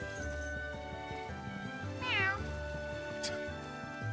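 A cat meows in The Adventures of Elliot, a single rising-and-falling mew standing out clearly over the game's steady background music, with no voices.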